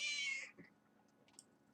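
A pet cat lets out one clear, fairly loud meow up close, followed by faint small sounds and near silence.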